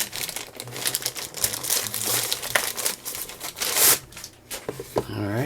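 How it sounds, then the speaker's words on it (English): Crinkly plastic crackling and tearing as tough plastic packaging around a mailbag item is pulled open, in quick irregular bursts up close, with someone speaking briefly over it. "Let's get this last one opened. Seems like a tougher plastic than the gray one."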